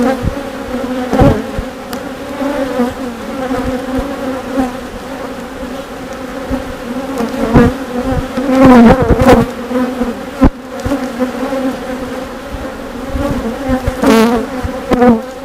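Honeybees buzz steadily around a beehive outdoors, a dense continuous drone with individual bees swelling louder as they pass close to the listener, no voices.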